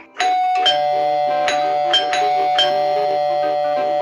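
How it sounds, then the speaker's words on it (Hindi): Doorbell in the Free Fire Max video game, a loud electronic ding-dong chime pressed several times in quick succession, ringing out alone with sustained tones. "इतनी क्यों डोरबेल बजा रहे हो"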